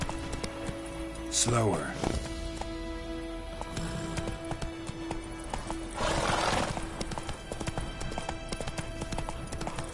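Horse hooves clip-clopping at a riding pace in the video game The Witcher 3: Wild Hunt, steady and close throughout, with a neigh partway in, game music beneath and a voice speaking briefly over it.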